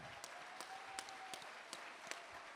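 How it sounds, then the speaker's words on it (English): Faint, sparse clapping from an audience at a Native Hawaiian panel discussion, a round of applause heard from a distance with scattered individual claps. "Round of applause."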